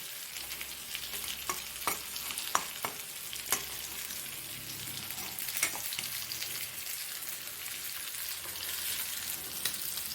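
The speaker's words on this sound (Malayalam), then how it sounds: "നമ്മുടെ സ്പെഷ്യൽ ഇൻഗ്രീഡിയൻ്റാണ് തേങ്ങ. നമുക്കിതൊന്ന് ചെറുതായിട്ടൊന്ന് വറുത്തെടുക്കാം." Grated coconut sizzles and crackles steadily in a hot pan, with intermittent scraping stirs, heard close and alone with no talking.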